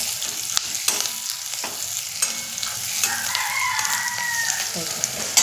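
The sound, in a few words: peanuts roasting in a pan with onions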